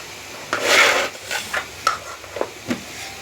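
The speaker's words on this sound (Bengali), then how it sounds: "আমি এবার ভালো করে নাড়াবো।" Onion with turmeric and coriander powder gets stirred in a pan, producing a few scraping, rubbing strokes of a spoon against the pan, close and moderately loud, without any speech.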